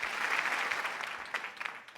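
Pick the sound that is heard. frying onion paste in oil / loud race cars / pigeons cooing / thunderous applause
thunderous applause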